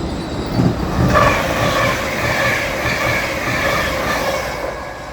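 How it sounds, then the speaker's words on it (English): An LNER Azuma train pulls into a Doncaster station platform with a loud, steady rolling rumble and rail noise close by, a faint squeal riding over it. "The next train to arrive at platform 1 will be the 1419 LNER Azuma service to London King's Cross."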